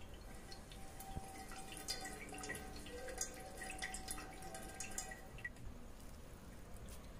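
Water dripping and trickling from freshly squeezed homemade paneer, a soft steady patter of drops heard close and alone, without voices.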